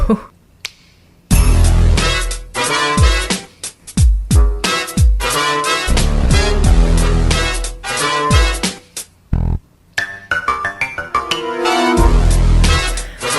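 Upbeat video game music with punchy synthesized notes and sharp percussive hits, broken by brief pauses, played loud and close.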